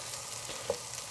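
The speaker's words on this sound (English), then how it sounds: "We are sauteing this about 2 or 3 more minutes" Ingredients sautéing in a pan for Persian lentil soup (adasi), a steady soft frying sizzle with a faint stir clink midway, close and low in level, no talking.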